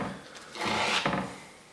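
Sandpaper rubbed by hand over small scroll-saw-cut wooden pieces gives a short, close rasping scrape that swells over about a second, then fades.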